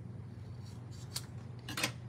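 Scissors cut cardstock pieces in half with two short snipping bursts over a steady low mechanical hum, quiet and close.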